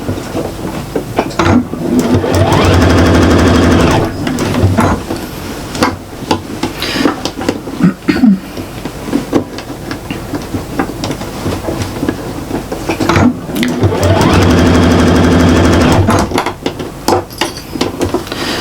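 A sewing machine runs loud bursts of rapid stitching as zip lining is joined to the lining of a shopper bag, pausing briefly between runs.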